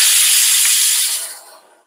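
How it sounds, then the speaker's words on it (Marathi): A kitchen pressure cooker cooking chickpeas releases a loud, close burst of hissing steam that holds briefly and then tapers away to silence within two seconds. "2 शिट्ट्या झाल्या. मी 4 शिट्ट्या करणार आहे चणे शिजवायला."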